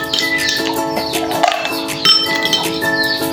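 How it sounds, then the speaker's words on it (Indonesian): Ice cubes dropped into a metal pan for a school heat experiment: bright glassy clinks and ringing metallic taps, a few scattered hits close up, with no talking. "menaruh es batu ke dalam panci"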